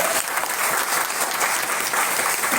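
Loud, dense applause from an audience at an RCM business gathering in India, steady and unbroken throughout with no voices standing out.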